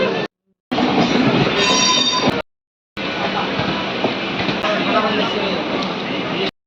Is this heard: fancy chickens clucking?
no